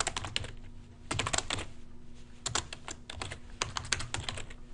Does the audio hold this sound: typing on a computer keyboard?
yes